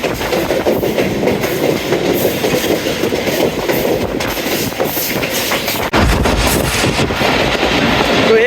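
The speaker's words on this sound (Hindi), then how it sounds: "बुरहान रेलवे स्टेशन को स्किप कर रही है हमारी 48 डाउन रहमान बाबा एक्सप्रेस" The 48 Down Rehman Baba Express, a Pakistani passenger train, runs steadily on the rails with a continuous loud rumble and clickety-clack of the wheels. Partway through, the sound briefly drops and then returns a little louder.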